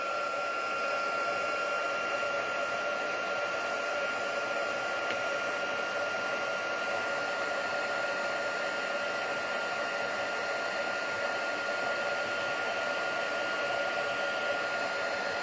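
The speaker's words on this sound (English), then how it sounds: "I'm just going to heat emboss this quickly," A heat embossing tool melts embossing powder on a handmade pop-up Valentine card. It gives a steady, close, continuous blowing whine, like a hair dryer, with an even hum that holds at the same level the whole time.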